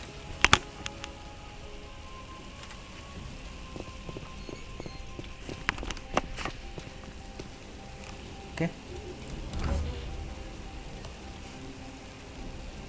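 Rain falls steadily in a video game as three characters stand waiting outside, a faint patter with scattered sharp drips and taps, while a player talks briefly over it.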